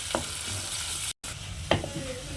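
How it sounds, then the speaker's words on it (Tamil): Curry leaves and shallots tempering in hot oil give a steady sizzle with a couple of sharp crackles and stirring scrapes, briefly cut to silence midway; no one talks. "கொஞ்சம் கருவேப்பிலையும் கொஞ்சம் சின்ன வெங்காயம் போட்டுட்டு நல்லா தாளிச்சிக்குங்க."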